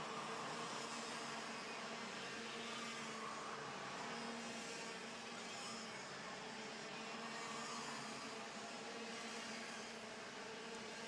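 Karts racing in the WSK Final Cup 60 Mini final, a steady continuous roar of small two-stroke engines buzzing together from a distance, unbroken throughout with no voices.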